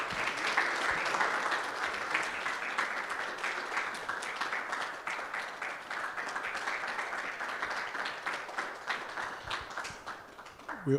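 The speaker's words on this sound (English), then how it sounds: "Let's give a round of applause for everyone who did it today." Sustained applause from a crowd, steady dense clapping that continues throughout and begins to thin out near the end.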